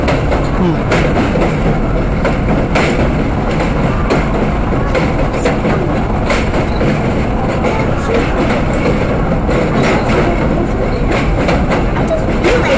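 An R32 J subway train rumbles loud and continuous on an elevated track, with rhythmic clickety-clack of wheels and heavy low engine noise throughout.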